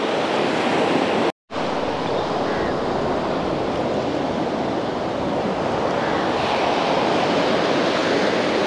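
Sea waves break steadily on Dehiwala beach, a loud continuous roar of surf with wind buffeting the microphone, interrupted by one brief cut of silence early on.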